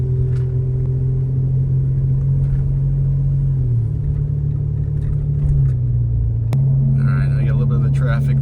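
A Ford F150 pickup truck drives around the block, giving a steady, loud low engine rumble and road drone throughout, with a slight shift in pitch partway through.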